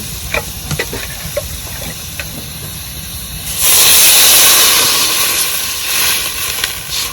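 Water poured into a pan of fried kholse fish bursts into a loud hiss and bubbling boil, rising sharply partway through after softer sizzling and stirring.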